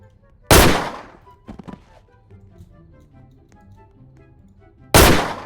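Two loud, sharp pistol gunshots from a Roblox video game, one near the start and one near the end, each with a ringing decay; faint clicks and handling noises fall between them, with no voices.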